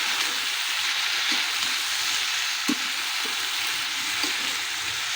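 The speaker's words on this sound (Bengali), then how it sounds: "এবার সবজিটাকে একটু নাড়িয়ে দেবো সুন্দর করে" Chopped vegetables with salt and turmeric sizzle steadily in a hot pan, a continuous close frying hiss with a few soft scrapes of stirring.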